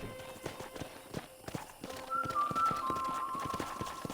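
Horse hooves clip-clop in a steady walking rhythm in the Red Dead Redemption video game, with a whinny and a high whistling tone rising midway, moderately loud and close.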